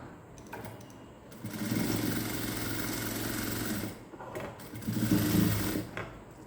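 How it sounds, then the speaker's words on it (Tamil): A sewing machine stitching along the edge of cigarette-style pant fabric, running in two close, steady whirring bursts with a brief pause between, no talk. "ஒரு சைடு நான் ஓரம் அடித்து ஜாயின் பண்ண ஸ்டார்ட் பண்ணுறேன்"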